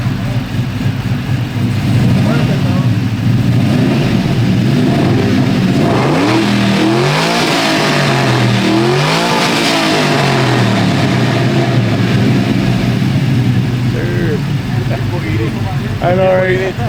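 A car's engine at a Houston car meet revs up in rising and falling sweeps, then settles back toward idle, loud and close, while people chat nearby.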